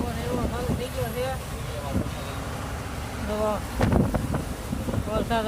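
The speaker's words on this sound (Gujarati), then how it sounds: "પવન એવો ચાલુ થઈ ગયો છે" Strong wind buffets the microphone in a truck cab on a delivery run in Chennai, a steady rushing roar under continuous talk from a man.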